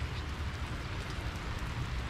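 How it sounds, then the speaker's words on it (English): Steady rain pouring during a fishing trip at Bungsamran in Thailand, a dense continuous hiss and patter that holds evenly throughout, with no voices over it. "It's been raining now for about an hour and a half."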